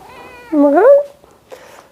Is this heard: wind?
no